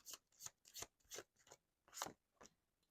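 Tarot cards being shuffled up close: about seven soft, quick riffling bursts in an uneven rhythm, quiet, with no talking.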